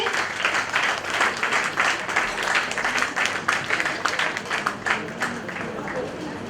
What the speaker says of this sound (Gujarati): સૌ તાળીઓથી વધાવી લેશો તેમને